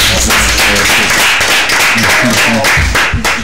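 A crowd claps and applauds loudly and continuously for a few seconds, a dense patter of hands with no pauses.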